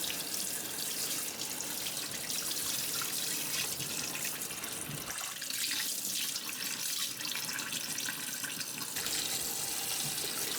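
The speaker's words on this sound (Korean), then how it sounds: "그리고 다 손질된 조기를 깨끗이 씻어요." Cleaned yellow croaker fish washed under a running kitchen tap, a steady rushing stream of water splashing into a sink, continuous and close, with a brief shift in the flow midway.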